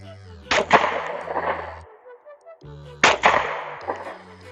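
A Smith & Wesson SW40VE pistol, just fitted with a new trigger after rust removal, fires two sharp, loud shots about two and a half seconds apart over a low background hum.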